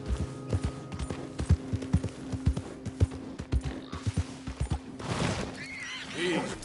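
Horse hooves clip-clopping in a steady trot, close and loud, followed by a horse neighing near the end, with occasional human voice commands.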